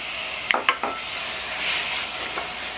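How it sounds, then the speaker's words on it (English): Bacon goes into a hot pan for green beans, opening with a few sharp clacks as the strips land, then settling into a soft, even sizzle and hiss; no voices. "First thing we wanna do is add some bacon to the pan."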